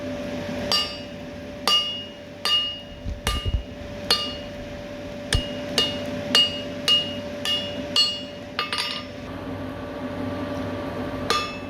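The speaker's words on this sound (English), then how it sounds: "I'm just working my hammer blows from the back to the front" Blacksmith hammer blows forging the tapered jaw nibs of steel scroll tongs, about a dozen sharp metallic strikes in an uneven rhythm with ringing overtones, close and loud over a steady background hum.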